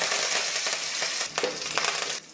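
Curry leaves and mustard seeds sizzle and crackle in hot tempering oil for a palya, a bright close hiss with sharp pops and a brief stir partway through, with no talk.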